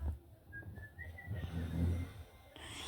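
A short, breathy whistle rising in pitch, faint against background noise, followed by a brief louder burst.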